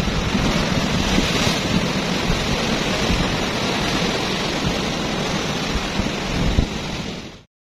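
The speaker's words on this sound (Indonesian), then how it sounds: "Ombaknya, lihat ombaknya tuh." South-sea ocean waves at Krakal Beach roar as a steady, loud wall of surf and spray, dense and unbroken with wind buffeting, fading out at the very end.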